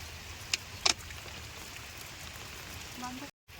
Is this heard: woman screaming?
no